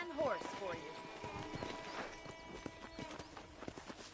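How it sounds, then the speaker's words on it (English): Horse hooves clip-clop on the ground in the Red Dead Redemption video game, a steady rhythmic trot under a voice talking and background game music. "I picked out a fine horse for you."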